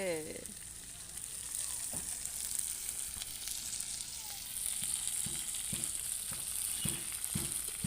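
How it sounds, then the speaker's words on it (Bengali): Tilapia fish fry in a pan over a village brick wood-burning stove, a continuous crackling sizzle with occasional knocks and scrapes as the pieces are handled, a faint voice in the background. "এবার মাছগুলো উল্টিয়ে দিচ্ছি"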